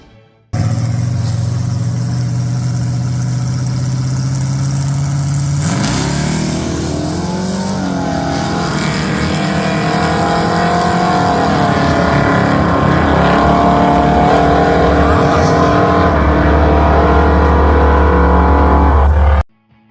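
Race cars at a 405 drag strip roar close and loud: a steady engine drone, then a sharp rev rising in pitch as a car accelerates away, sustained throughout.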